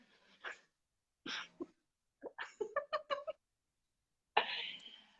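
A house cat meowing close by in a short series of brief, separate calls with pauses between them, ending in a longer, louder meow.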